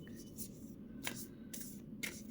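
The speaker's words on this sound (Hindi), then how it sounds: "first I'll shuffle all the cards and place it" A deck of positive affirmation cards is shuffled by hand in quick riffling bursts, about one every half second, soft and close.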